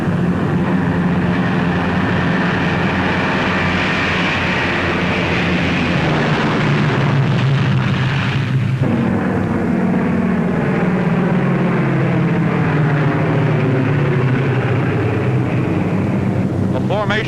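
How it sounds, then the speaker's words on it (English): A formation of eighteen B-17 bombers drones overhead in flight, a loud, dense, continuous roar of piston engines with a steady wind-like rush and a slight shift in tone midway. "A formation of 18 B-17s was on its way to attack Rouen."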